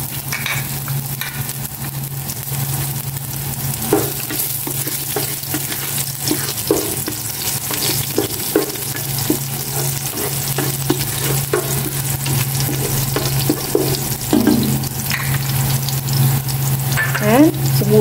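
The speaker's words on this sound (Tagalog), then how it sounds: "Lalagay ko na itong sibuyas para makapag-gisa na ako." Onions sautéing in hot oil give a steady, close sizzle that runs throughout, with scraping and clattering from stirring and a brief louder burst near the end.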